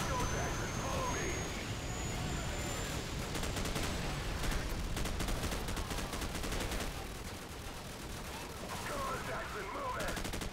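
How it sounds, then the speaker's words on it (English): Dense, sustained gunfire fills a Call of Duty 4: Modern Warfare battle on Xbox 360, with rapid automatic bursts layered into a continuous loud roar of combat. "Bravo, give us covering fire!"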